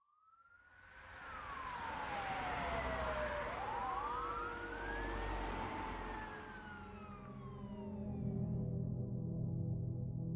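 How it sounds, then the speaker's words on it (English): Emergency vehicle sirens of fire trucks, police cruisers and an ambulance sweep through a small town, wailing tones rising and falling and overlapping loudly over a rumbling engine bed, continuous and swelling toward the end. "fire trucks, police cruisers, and an ambulance roared through the small town of Innisfail"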